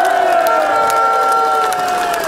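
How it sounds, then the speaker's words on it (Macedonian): A protest crowd on its 71st day of demonstrations cheers and applauds loudly for a couple of seconds, with a sustained tonal whistle or horn line running through the noise. "А сега ве молам самите себе да се наградите со аплауз за"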